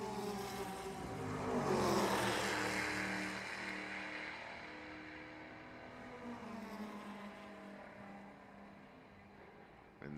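The 6A McLaren open-cockpit vintage race car of Randy Hummel drives by on track, its engine note rising as it approaches, then fading into a steady drone as it pulls away.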